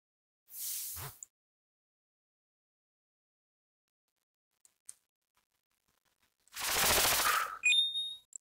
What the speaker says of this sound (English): Shoot him in the claw.